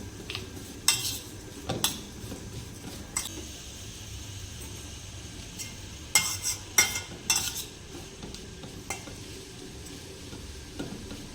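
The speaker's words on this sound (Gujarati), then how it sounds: "હવે તેમાં જરૂર મુજબ મીઠું પણ ઉમેરી દઈશું અને આ બધી વસ્તુને આપણે સારી રીતે મિક્સ કરી લઈશું." A spoon stirs and mixes salted ingredients for methi thepla in a bowl, producing irregular scraping knocks and clinks in two short bursts, fairly close and clear with no talking.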